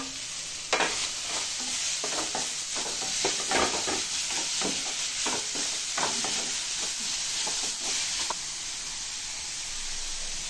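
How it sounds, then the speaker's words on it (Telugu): Green chili and ginger-garlic paste sizzle steadily in hot oil while a spoon stirs and scrapes repeatedly, a loud, continuous hiss with busy stirring strokes. "పచ్చిమిర్చి, అల్లం వెల్లుల్లి పేస్ట్ వేసి లైట్గా ఫ్రై చేసుకుందామండి"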